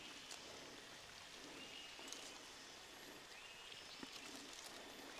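Rain falls over a durian orchard at Cisapih, a soft, even hiss of drops with a few faint taps, quiet and constant throughout.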